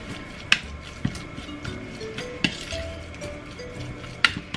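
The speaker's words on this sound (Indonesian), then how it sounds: "Terus kita aduk-aduk" A metal spoon stirs a dough mixture for niku dango in a bowl, giving sparse, sharp clinks against the bowl at irregular intervals over soft scraping and faint background hum.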